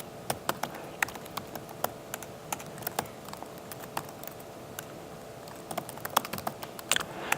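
Rapid, uneven typing on a computer keyboard, close by and fairly quiet, with clustered key clicks over a steady background hum and no talking.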